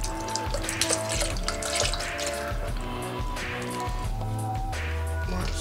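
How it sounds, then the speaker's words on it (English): Hemp milk is poured into a container in a kitchen, making a continuous gurgling, splashing liquid sound with drips, close and fairly loud against faint background music. "let me pour the rest of the hemp milk in here"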